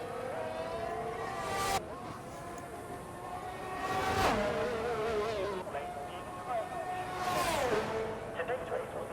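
Race cars lap the Bahrain circuit in an Xbox racing game, engines giving a steady high buzzing whine with several rising and falling pitch sweeps as cars pass, continuous and moderately loud.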